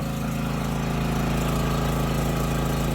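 Champion C3200G hybrid generator engine runs steadily under roughly a 3 kW load, a continuous, even, close-up mechanical drone with a constant low hum and no speech.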